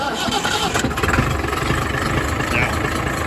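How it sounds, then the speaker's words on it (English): A tractor engine cranks and catches, then runs at a steady, close rumble while a person talks over it. "Let me start the tractor."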